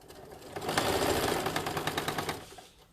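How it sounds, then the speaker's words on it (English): A sewing machine runs in a steady, rapid burst for about two seconds, stitching a circle around a tote bag with a fast, even mechanical patter, close and clear with no talking. "anytime you're sewing a circle, you don't have to back stitch because you'll overlap your beginning and end"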